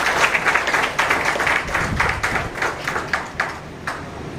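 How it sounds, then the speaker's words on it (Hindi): An audience at a government education department ceremony in Sitamarhi applauds a guest on stage, with steady clapping that thins into a few distinct, spaced claps near the end. "जोरदार तालियों से हम स्वागत करते हैं सर का।"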